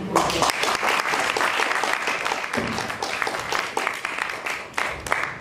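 Audience at a university panel discussion applauds with sustained, dense clapping that carries through several seconds, rising and dipping slightly, with a few voices mixed in.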